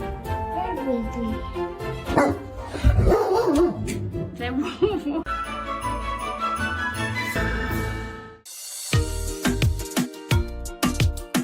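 A dog barks and yips repeatedly in a busy compilation scene, with whimpers mixed in and music and other noise around it, the barks loud and close in irregular bursts.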